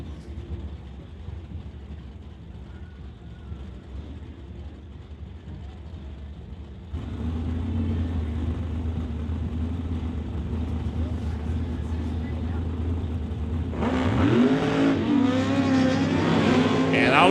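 A Super Combo drag racing car makes a second-round qualifying run down the lane at a Lordco Auto Parts event, its engine a steady droning roar that swells louder partway through and builds into rising revs at the end.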